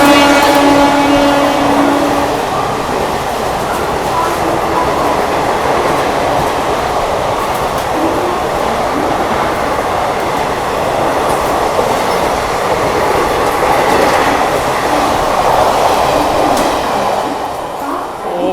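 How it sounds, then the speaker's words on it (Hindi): A Dadar Ballia Special train overtakes on the line near the Pune junction: a loud, steady rush of passing coaches with rattling wheels and clatter lasting throughout, easing slightly at the end. "भाई साहब बहुत ही शानदार ओवरटेक करके गई दादर बलिया स्पेशल ट्रेन"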